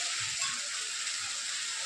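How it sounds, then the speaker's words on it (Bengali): Spice paste frying in a pan for a vegetarian flour-based dish, giving a steady, close hiss of sizzling oil that stays even throughout with no talking. "মশলাটাকে আমি 2 মিনিট ভেজে নিচ্ছি।"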